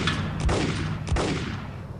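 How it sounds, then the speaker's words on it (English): Gunfire in the video game Max Payne, a few loud booming shots within a continuous rumble of game noise, with no pauses of quiet. "Look at this guy shooting the air."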